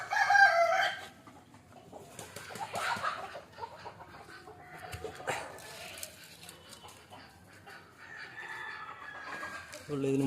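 Native country chickens released from their coop in the early morning, with a rooster crowing and hens clucking in scattered bursts, a dog barking at times, and someone speaking intermittently over the birds.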